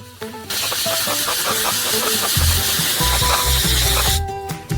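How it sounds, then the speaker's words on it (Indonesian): Liquid nitrogen sprayed into hot caramel while cooking crayfish, a loud continuous hiss that starts abruptly and runs for about four seconds with faint mechanical tones beneath it. "Dan semprotkan nitrogen langsung ke dalam karamel panas"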